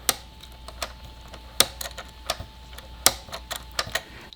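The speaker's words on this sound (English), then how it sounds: "satisfying clicking noise" Clicks from the on-off switch of a LEGO 10334 Retro Radio, a set of sharp, separate ticks spaced irregularly over a few seconds, close and fairly crisp against a quiet background hum.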